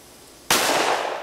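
A single loud, close gunshot from a .44 Magnum revolver cracks out after a quiet lead-in, followed by a long decaying echo.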